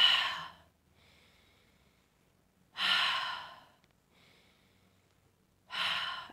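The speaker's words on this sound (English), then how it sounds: "And you just take three breaths," Three deep breaths taken during a money-manifesting meditation, each a loud close inhale-exhale rush with faint quieter breathing between, spaced evenly over several seconds with no talk.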